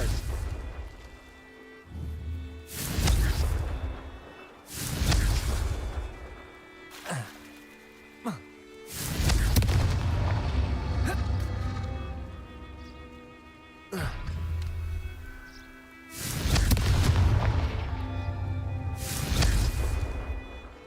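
Confringo fire-blast spells in Hogwarts Legacy go off repeatedly, a series of loud booming blasts at irregular intervals, each with a crackling decay, separated by quieter game ambience.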